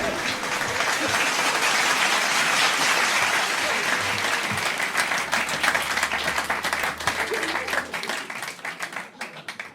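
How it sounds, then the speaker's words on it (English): Sustained audience applause follows a folk song at a folk club performance, dense steady clapping close and loud, thinning into scattered claps near the end. "Another round of applause, please,"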